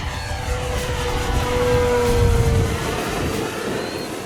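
A giant radio-controlled P-51 Mustang warbird model plane flies past at full throttle in a crosswind, its engine a loud, steady drone that swells slightly and then eases off, with no talk.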